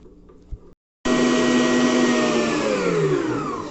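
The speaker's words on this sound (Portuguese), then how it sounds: "você pode também utilizar a batedeira" An electric hand mixer beats cassava cake batter in a kitchen, a steady loud whirring drone that starts abruptly after a short pause and runs continuously, its pitch sliding slightly lower as the batter thickens.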